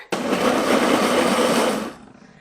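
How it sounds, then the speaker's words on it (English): A Ninja Foodi blender on its mixer setting whirs loudly and steadily for about two seconds with raspberry lemonade agua fresca inside, then abruptly cuts off. "Gonna close our lid and turn on our blender."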